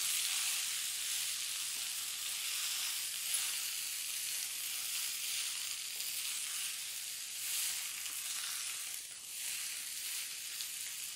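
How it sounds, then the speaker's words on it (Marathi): Steady, even sizzle of shepu (dill) greens frying in a pan as they are stirred and mixed, a continuous close hiss with slight swells and dips and no talking. "आता ही भाजी आपल्याला छान मिक्स करून घ्यायची आहे यामध्ये"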